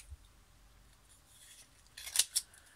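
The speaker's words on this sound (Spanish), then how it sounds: "Mis tijeras para quitarle esto." Scissors snip through packaging in two or three quick, crisp cuts near the end, close and fairly loud after a quiet start.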